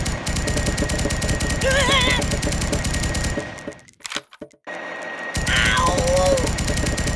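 Rapid automatic gunfire at a shooting range in the game Kick the Buddy, dense bursts of shots for several seconds, a brief near-silent gap, then firing resumes loudly; a voice briefly exclaims over it.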